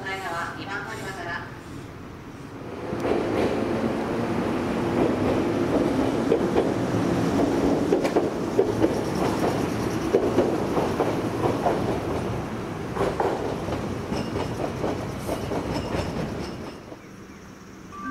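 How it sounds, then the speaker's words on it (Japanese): Twilight Express Mizukaze luxury train pulling into Ayabe Station, a long steady rumble with clattering wheels on rail joints under a platform announcement, swelling in then fading near the end. "2番乗り場に列車が参ります。"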